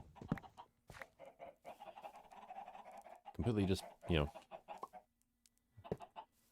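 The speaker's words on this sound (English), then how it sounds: "Also, yeah, chickens are just going nuts over here." Chickens clucking and squawking in the Techopolis 2 Minecraft modpack, a loud burst of agitated clucks near the middle mixed with softer clucks, under someone talking.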